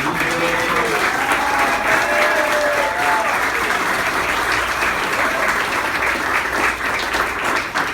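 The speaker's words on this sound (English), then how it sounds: "if we could just clap it up one more time for Tom Biggers" An audience applauds at a check presentation, giving continuous dense clapping for about eight seconds, steady and fairly loud with faint voices briefly audible early on.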